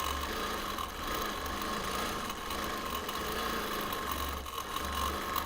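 A quilting machine with a stitch regulator stitching through a linen-blend penny sampler quilt, a steady mechanical whirring hum with faint rhythmic chatter, even and close, with no voices.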